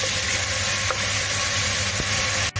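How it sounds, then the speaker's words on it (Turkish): Onions sautéing in a pan with salt added, a steady close sizzle and crackle of frying with a couple of faint stirring knocks, no talking. "Soğanlar kavruldu."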